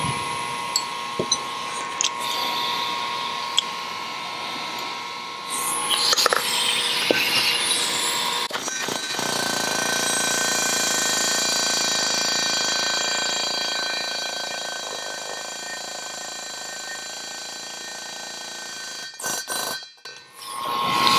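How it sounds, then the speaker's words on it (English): Short-stroke air hammer fitting valve guides into a Subaru cylinder head: a few sharp taps, then a loud sustained high-pitched rattling burst lasting several seconds, ending in a brief stuttering run, with no speech. "Now this air hammer too is not the most powerful one."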